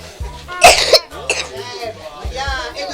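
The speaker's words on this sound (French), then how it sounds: "essaie un peu de tousser là dans le coude" Child coughing into the elbow: a couple of short, close coughs between bits of speech from a child and an adult.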